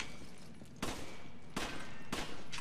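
Three sharp gunshot blasts in the video game Resident Evil 5, fairly faint and spaced unevenly over a low, steady background.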